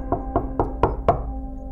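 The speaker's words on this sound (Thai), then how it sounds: "จากนั้นก็มีเสียงเคาะประตูดังขึ้น" Knocking on a door in a narrated ghost story: five evenly spaced, hollow knocks in quick succession, fairly loud and close, over a low steady hum.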